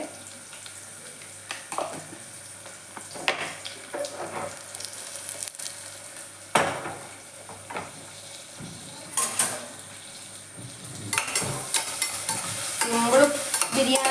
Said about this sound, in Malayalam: ഞാൻ ഈ സവാളയിൽ തന്നെയാണ് കേട്ടോ ഉപ്പിടുന്നത്